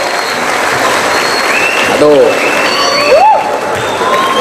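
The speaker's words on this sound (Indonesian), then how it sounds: "Tepuk tangan untuk kita semuanya." A large crowd at a religious talk applauds in a loud continuous roar of clapping, with scattered shouts and voices rising above it and a brief spoken exclamation.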